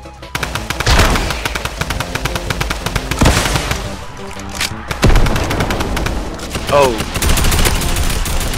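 Rapid bursts of automatic gunfire and loud shots from the video game Fortnite, dense and close, with a player calling out between the volleys.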